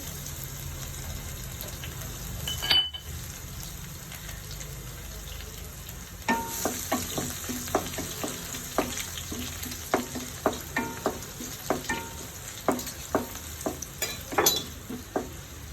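Garlic sizzles steadily in hot oil in a pan for a jackfruit curry, a constant frying hiss with scattered sharp pops and crackles, plus a few clinks of a utensil stirring.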